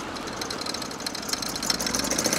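Motorcycle engine running after a start in cold, wet weather, a steady mid-pitched idle with knocking pulses that grows slightly louder toward the end, close by with no talk.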